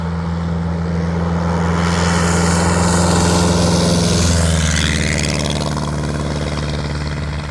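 Cozy canard homebuilt aircraft engine running loud and steady during a demo-ride takeoff, a strong low drone with rising broadband rush, heard alone without talk.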